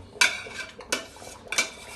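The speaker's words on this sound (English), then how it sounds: "then you stir. You stir the egusi." Egusi soup being stirred in a big pot of boiling meat, with three separate scraping, clinking strokes of a utensil against the pot, close and fairly loud, and no talking.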